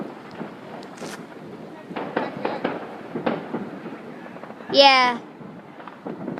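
Fireworks going off outdoors at night: scattered dull booms and crackles over a noisy background, then one loud bright burst near the end, with a few spoken words and voices nearby.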